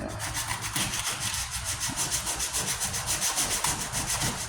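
A sanding block works across the rusty tailgate of a 1998 Ford Ranger, giving a steady rhythmic rasp of quick back-and-forth strokes, close and even, with no voices.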